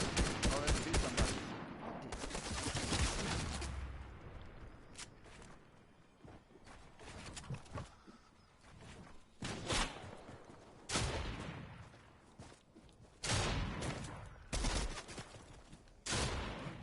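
Bursts of rapid gunfire in a Fortnite duos match come in repeated volleys, loud and close, broken by short pauses with faint footsteps and rustle between.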